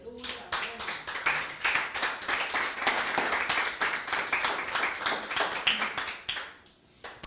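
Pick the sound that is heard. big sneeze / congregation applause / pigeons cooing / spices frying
congregation applause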